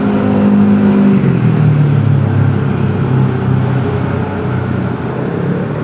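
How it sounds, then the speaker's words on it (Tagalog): Dense city road traffic by a Manila expressway construction site, motorcycles and cars passing with a loud, continuous engine roar and whir, fairly close, without talk. "dito sa area natin medyo napakaingay ng mga motor,"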